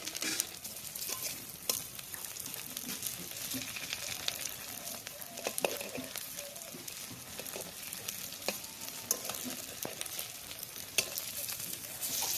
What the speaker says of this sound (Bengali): সেম প্রসেসে ভাজা নেব।